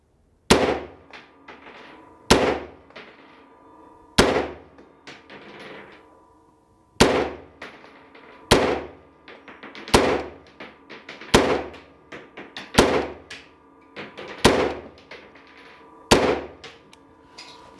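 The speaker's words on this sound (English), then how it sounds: "I just love shooting this thing." Single shots from an AR-15 rifle with a weighted barrel crack out loud and close, about ten sharp reports at irregular one-to-two-second intervals, each trailing a short echo.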